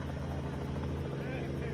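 A Robinson helicopter flies during a flood rescue of a dog trapped in a car, its rotor and engine making a loud, continuous, close drone with voices faintly underneath.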